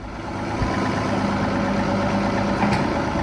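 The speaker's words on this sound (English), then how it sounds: "Hopefully it's not too loud with the tractor." Loud, steady rumble of a tractor engine running nearby during tree stump removal, a continuous low drone with a slight rise in revs partway through.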